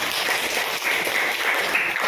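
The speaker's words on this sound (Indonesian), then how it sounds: "Luar biasa, tepuk tangan buat Nelly." Brief, dense applause from a classroom of students for a classmate during an Islamic studies lesson, a steady wash of many hands clapping at a moderate level with no one speaking.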